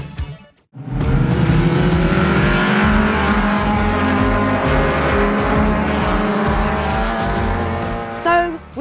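Race cars at the Dezzi racetrack, a loud sustained engine roar with shifting pitch as cars drive hard close by, with brief tire noise and a short lull at the start.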